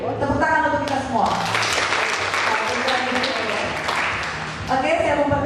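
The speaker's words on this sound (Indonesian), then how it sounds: "Tepuk tangan untuk kita semua." An audience at a morning seminar on job application tips claps in a sustained burst of applause, mixed with a voice and music heard before and after it.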